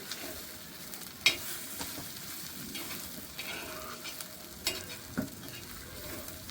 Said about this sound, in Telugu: ఇంతే కలిపించుకుంటూ బాగా ఫ్రై చేసుకోవాలి, కొంచెం పచ్చి వాసన పోయేంత వరకు